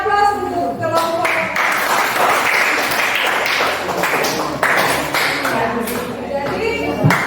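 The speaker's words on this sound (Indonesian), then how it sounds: "Kita beri aplaus untuk kelompok" A group in a classroom discussion session claps, steady overlapping applause running for several seconds with voices mixed in.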